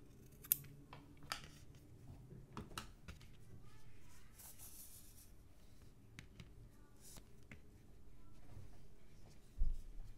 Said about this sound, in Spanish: Voy a cortar el trapillo.